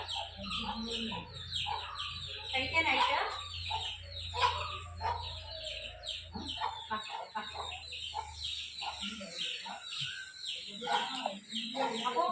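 Young backyard chickens, now grown from chicks, cluck and chatter close by while pecking at scattered rice, with irregular calls over a person talking intermittently.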